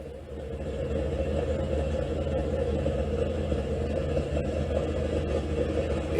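A drag-built 1970s Chevrolet Camaro engine runs steadily at idle, a deep continuous low rumble that stays even and moderately loud throughout, with no voices.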